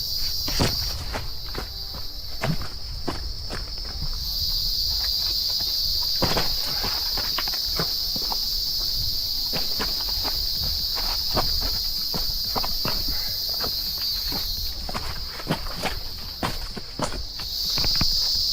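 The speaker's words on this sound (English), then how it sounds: "These are some of the loudest cicadas I've ever heard." Loud cicadas in the forest on Arenal Volcano, a piercing sustained buzz that drops out briefly and surges back, with crunching footsteps of a hiker walking the trail close by, in an irregular steady rhythm underneath.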